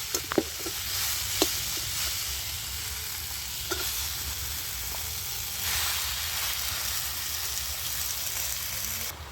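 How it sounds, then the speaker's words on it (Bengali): Washed spinach going into a pan of sizzling vegetables for a chorchori, with a few clinks of a utensil at first and then a steady, close hiss of frying with occasional stirring. "এবার ধুয়ে রাখা শাকটা দিয়ে দিচ্ছি"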